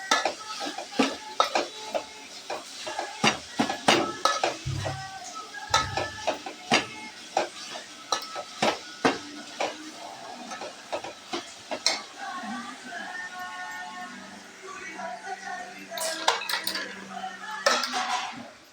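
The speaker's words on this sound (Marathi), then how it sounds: "टोमॅटो आणि कांदा चांगला परतून घ्यायचा." Tomato and onion sauté in a pan while a utensil stirs and scrapes in frequent clinks and taps over a soft, steady sizzle, close up.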